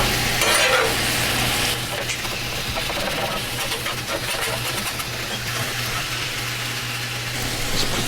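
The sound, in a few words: onions stirred and sizzling on a griddle for cheesesteak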